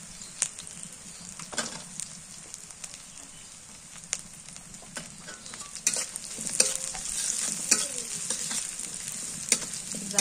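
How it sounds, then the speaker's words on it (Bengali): Green chili and onion fry in hot oil with a steady close sizzle, punctuated by clicks and scrapes of stirring that grow busier toward the end. "মরিচ পেঁয়াজটা ভাজা হয়ে গেছে"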